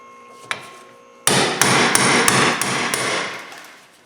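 A hammer strikes a stuck brake rotor screw on a Hyundai Santa Fe rear brake, about seven sharp, loud metallic blows in quick succession, each ringing briefly, with no voices.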